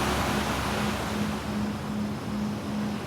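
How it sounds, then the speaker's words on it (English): Calming ocean waves in a steady, broad wash of surf noise with a faint, regular low hum pulsing beneath it, moderately loud and continuous with no voices. "enjoy the calming sounds of the ocean"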